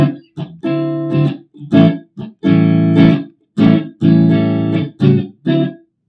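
Dry electric guitar notes and chords with the reverb turned all the way down, played one after another, each ringing briefly then cutting off cleanly, with no lingering echo.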